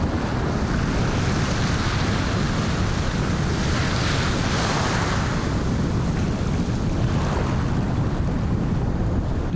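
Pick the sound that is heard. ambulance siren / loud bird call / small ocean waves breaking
small ocean waves breaking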